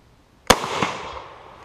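A French Lebel Model 1886/93 rifle in 8x50R fires a single loud, sharp shot that decays into a long rolling echo.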